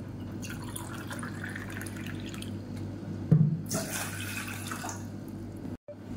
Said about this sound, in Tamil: இதில் நல்லா ஒரு 250 ml அளவுக்கு தண்ணி சேர்த்துக்கலாம்.